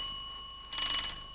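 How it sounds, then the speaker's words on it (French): A doorbell rings quietly as a steady electronic tone, brightening into a fuller chime partway through before trailing off. "Ah non, c'est la sonnette de la porte."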